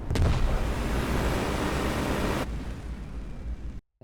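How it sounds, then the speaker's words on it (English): A library explosion sound effect, loud and broadband, with a heavy burst at onset, then a sustained rumbling roar that thins after a couple of seconds before cutting to silence. "Let's just pop off an explosion to get our hyperdrive going here."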